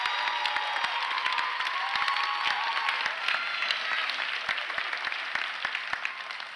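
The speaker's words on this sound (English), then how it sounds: "Let's give them a round of applause as well." A graduation audience at the Victoria Theatre in Dayton, Ohio applauds students who earned attendance scholarships: a dense, steady wash of many hands clapping, with sharper individual claps standing out, that eases slightly toward the end.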